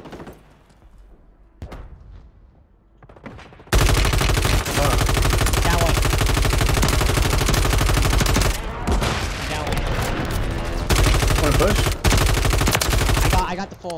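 Rapid automatic gunfire in the Warzone video game, shooting through a wall, bursts out loud and sustained for several seconds after a few quieter thuds, broken by brief gaps, with players talking faintly underneath.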